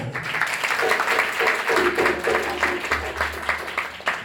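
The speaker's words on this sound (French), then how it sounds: "On va l'applaudir très fort." Audience applause at a lily festival in Abidjan: a steady wash of clapping hands at moderate volume over a low, constant hum, with faint voices now and then.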